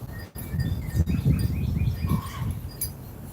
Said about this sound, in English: That is one angry bird.